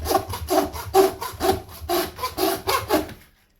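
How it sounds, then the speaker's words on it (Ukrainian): A small handsaw cuts through frozen goat neck bone with about seven rhythmic back-and-forth rasping strokes, close and fairly loud, before the sawing stops and silence follows. "Пробуємо нашою ножовочкою різати остатки розкоші."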